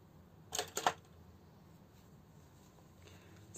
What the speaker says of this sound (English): then chain 1 and cut my yarn